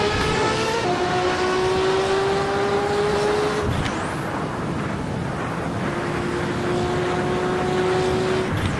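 A Porsche Spyder and a LaFerrari race in Assetto Corsa, their engines holding a loud, steady high-pitched whine with tones that climb, then dropping sharply on a gear shift before building again, close and alone with no talk.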